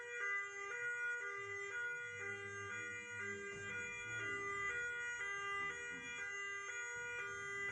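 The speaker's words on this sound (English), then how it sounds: "So this is our second sounder" A wireless fire alarm's second sounder, set off by cross-zoned devices at a resort, blares a loud steady electronic tone with rapid repeating pulses and strong harmonics throughout, with no voices.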